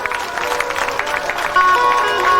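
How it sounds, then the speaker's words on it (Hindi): Clapping from an audience at a Shrimad Bhagwat Katha religious gathering, a brief burst of crowd applause heard over sustained musical tones from the organ and stage setup, growing louder partway through. "अगर आपको अच्छा लगा हो तो ताली बजाएं।"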